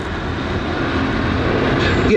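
A slow vintage aircraft's engine drones loud and steady overhead at the Battle of Britain Air Show at Duxford, with a dense continuous roar and a voice talking over it.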